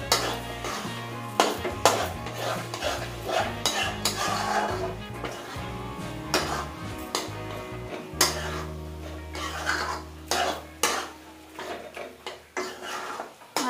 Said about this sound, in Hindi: चलिए अब हम इसे अच्छे से मिक्स कर लेंगे 1 से 2 मिनट तक।